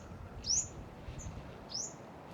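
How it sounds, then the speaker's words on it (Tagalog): Two or three brief, high bird chirps ring out faintly over a quiet outdoor hiss on Monbon Island, spaced apart rather than a dense chorus. "Ang daming ibon guys, maririnig mo."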